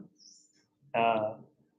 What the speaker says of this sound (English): Yellow-browed warbler के बारे में सबने सुना है? Yellow-browed warbler.